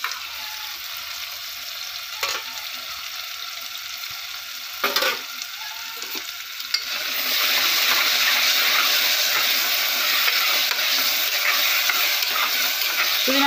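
Mint and coriander leaves sauté in hot oil for a potato dish, a soft hiss that swells into a louder, dense, steady sizzle after a few light clinks and knocks, close and without talk.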